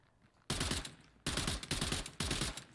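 Suppressed gunfire from a silenced weapon in State of Decay 2, heard as three loud bursts of rapid muffled shots separated by short pauses.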